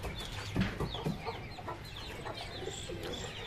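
Restless chickens cluck and chirp in an excited jumble while being fed, with steady chatter from the flock and little else over it.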